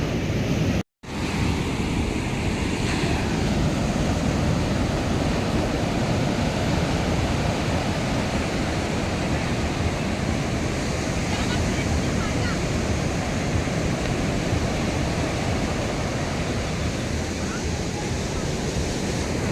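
Ocean waves surge at Payyambalam beach in Kannur on an evening with strong surf, a loud, continuous roar of breaking water mixed with wind buffeting the microphone, briefly cut out near the start.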